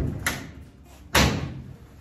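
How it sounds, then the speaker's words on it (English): A 1940 Ford passenger door being closed: a light tap first, then one firm slam with a latching thud, close and fairly loud, with a quiet workshop hush afterward and no talking. "this door is fitting now and latching"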